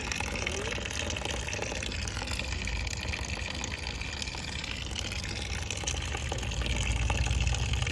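Clothes are washed by hand in water, a continuous close splashing and sloshing that runs throughout at an even level.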